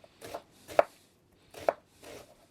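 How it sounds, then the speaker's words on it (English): A knife slices half a white onion into long strips on a cutting board, four sharp close chops in two pairs with quiet between them. "this is half of a white onion, and I'm going to cut these up"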